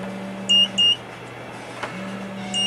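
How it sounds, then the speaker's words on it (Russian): Cable continuity tester emitting steady electronic beeps, two short beeps followed by a longer tone that starts again after a brief pause, loud and close with no speech. "Вставляете в нее, и она начинает пищать."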